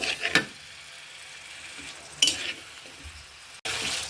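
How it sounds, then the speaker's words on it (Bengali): Potatoes sautéing and being stirred in a pan for a prawn-fritter coconut-milk curry: a low, steady sizzle with soft scraping stir strokes and a few brief louder clatters, no talking. "এখন আমি এই আলুটা একটু বেশ কিছুক্ষণ ধরে একটু কষিয়ে নেব"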